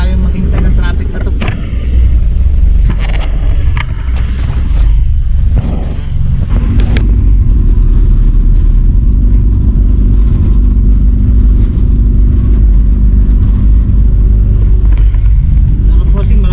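Road traffic crawling near Tagaytay past condominium buildings, a loud, continuous low rumble of car and vehicle engines close by, with voices over it.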